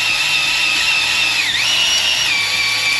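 A drill-driven hone cross-hatching a cylinder bore of a Honda B18C1 engine, a loud steady high whine with a grinding edge whose pitch dips briefly midway as the tool moves up and down.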